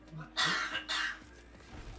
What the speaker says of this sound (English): So you're coughing.